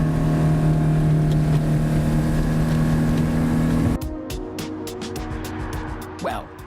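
A car accelerates hard along a coast road in Albania, its loud engine droning and climbing for about four seconds before settling into a lower, rougher running tone.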